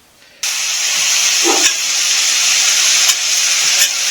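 Food sizzles loudly in a pan over medium-high heat while browning, for biscuits and gravy; the steady hiss starts abruptly and holds through, with a faint low bump or two beneath it.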